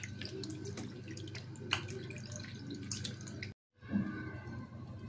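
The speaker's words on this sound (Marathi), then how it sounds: "पुन्हा आपण एकदा पाणी टाकून स्वच्छ धुवून घेऊयात" Running water rinses cleaned squid in a kitchen, a steady close wash with faint drips that cuts off briefly before starting again.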